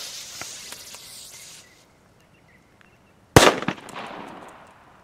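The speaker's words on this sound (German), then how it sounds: "Nochmal ein D-Böller." A D-Böller firecracker bursts outdoors with a single sharp, loud bang, followed by a crackling, hissing decay, after softer background noise and a brief near-silent pause.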